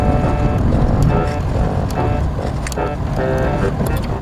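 Oncoming cars swishing past one after another on a UK road, heard from inside a moving car over a constant loud engine and road rumble.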